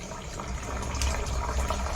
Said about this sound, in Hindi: हम इसको पूरी बॉटल को पानी से भर देंगे